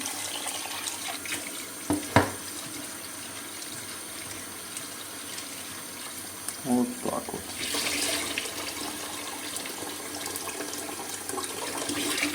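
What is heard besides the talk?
water running from tap into pot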